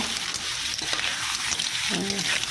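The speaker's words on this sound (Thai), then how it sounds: "เราก็ใส่หอยลายที่เราลวกไว้เมื่อครู่ลงไปผัดได้เลยนะคะ" Blanched surf clams are stir-fried with chili paste in a hot pan: a continuous close sizzle and stirring scrape, with a brief tonal sound near the end.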